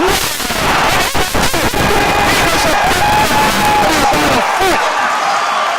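Basketball crowd at Knights Hall roars and cheers after a dunk off a lob, a loud, sustained wall of cheering and whoops from a packed gym that swells and holds before dropping off near the end.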